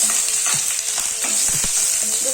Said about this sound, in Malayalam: അപ്പൊ ആദ്യം ഇതിലേക്ക് സവാള അരിഞ്ഞത് ഇട്ടുകൊടുക്കാം.